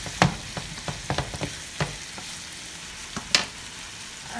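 Saltfish mixture seasoned with black pepper bubbling and sizzling in a pan, with irregular pops and crackles and a few sharper spatters over a soft frying hiss.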